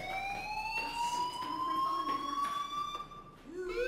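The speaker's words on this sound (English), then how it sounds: "Hey, do you hear that fire alarm?" A fire alarm rings in the video game Life Is Strange, a loud continuous electronic tone sustained for several seconds with steady harmonics and a slight pitch drift, while faint background sounds and brief voices sit beneath it.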